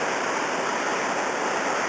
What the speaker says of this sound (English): It's got lots of channels, lots of water over the rocks.